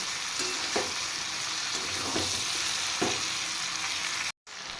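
Okra and mixed vegetables fry in a pan with a steady, close sizzle, broken by a few soft scrapes of stirring and a brief cutout near the end.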